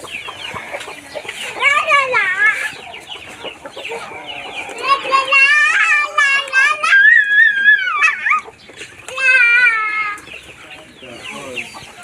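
Dekalb White chicks peep in high, wavering calls while a hen clucks nearby, close and fairly loud, with a voice chattering among the birds.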